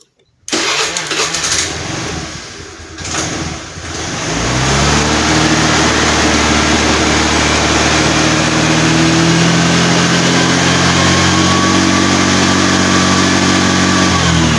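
A carbureted Vario 110 scooter engine cranks over, catches, and settles into a loud, steady running hum that holds strong and even to the end.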